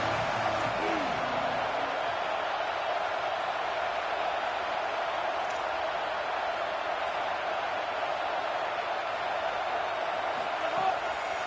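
A football stadium crowd roaring on a third down, a broad continuous wall of cheering and noise that holds steady and loud, heard from within the stands with no clear individual voices.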